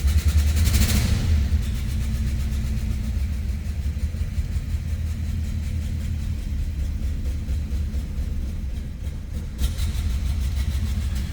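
A cold 1960 Chrysler Windsor sedan idles while warming up, a close, continuous low rumble with an even, throbbing pulse that holds steady throughout.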